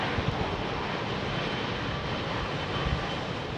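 Airliner climbing out after takeoff at Heathrow during a storm, a steady broadband engine roar blended with heavy wind noise, loud and continuous throughout with no voices.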